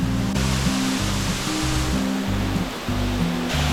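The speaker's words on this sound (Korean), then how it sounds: "생각 외로 물줄기가 약합니다." A waterfall at Eolgol Valley in Korea roars as a constant, dense rush of water, loud and near, with no one speaking.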